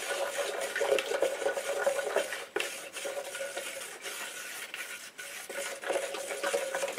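Ceiling coating mix stirred in a bucket to work out lumps, a soft repeated scraping and swishing that pulses with each stroke, fairly quiet and close, no voices.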